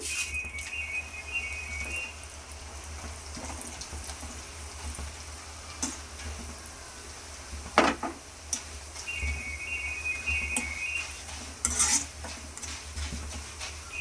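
Flattened rice (poha) fries in a pan, giving a steady soft sizzle with occasional scraping and clinks of a utensil stirring against the metal.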